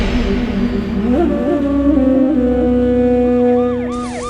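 An ambulance siren wails continuously at close range, its rising and falling tone loud and alone, with no voices over it.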